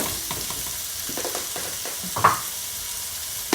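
Chocho sautéing in a pan for Jamaican steamed fish and okra, a continuous close sizzle with soft stirring scrapes and a couple of sharper utensil clinks, no talking.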